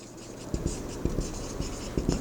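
Someone writes out the equilibrium condition during a physics lesson on motional EMF: a run of quick, close tapping and scratching strokes in irregular bursts, with no talking.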